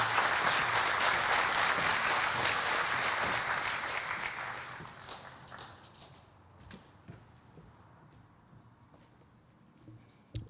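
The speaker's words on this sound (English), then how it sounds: "you can clap for him" An audience applauds at the close of a talk at a religious festival gathering, the clapping loud and dense at first, then thinning out and fading to scattered claps and quiet by the end.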